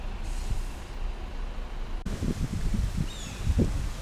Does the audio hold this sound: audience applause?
no